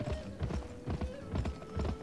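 Horse hooves clip-clop in a steady, even trot in a western action video game, with four evenly spaced clusters of hoofbeats at moderate loudness and no talk over them.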